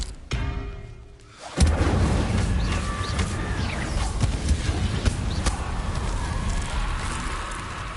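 Incendio fire spell cast in the Hogwarts Legacy video game, a sudden whooshing burst of flame followed by a sustained roaring crackle that stays loud to the end.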